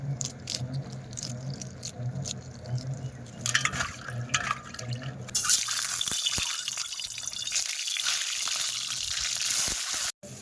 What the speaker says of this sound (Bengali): কড়াইতে তেল দিয়ে পেঁয়াজ রসুন কাঁচা লঙ্কা পাঁচফোড়ন দিয়ে দিয়েছি